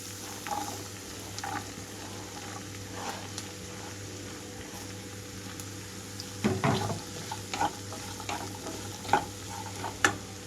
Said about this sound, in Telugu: కట్ చేసిన బీరకాయలు మొత్తం వేసేస్తున్నాను